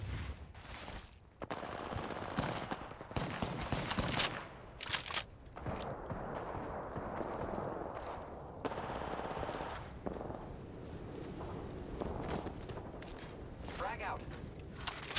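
Rapid gunfire bursts from Apex Legends weapons during a battle royale match, repeated shots in quick volleys throughout, mixed with game effects and a voice talking over them.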